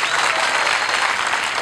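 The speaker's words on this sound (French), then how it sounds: "je vous demande de les applaudir très fort" Ceremony crowd in Conakry, Guinea, at the launch of construction works, applauding the directors general in a dense, steady wash of clapping, loud and close throughout.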